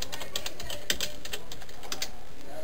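Rapid clicking keystrokes on a computer keyboard as a song name is typed into a search box, a quick irregular run of close, crisp taps with no talking.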